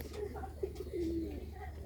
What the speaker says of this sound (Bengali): রাজশাহী গিরিবাজও ডাকতেছে